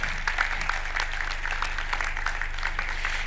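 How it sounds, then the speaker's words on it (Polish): Applause from an audience at an awards gala in a hall, a steady wash of clapping with a low electrical hum underneath, continuous and moderately distant. "Duże brawa, gratuluję."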